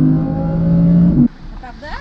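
A 610 HP Audi R8 engine revving hard under acceleration, a loud sustained droning roar that cuts off abruptly, followed by a quieter interior with a voice speaking.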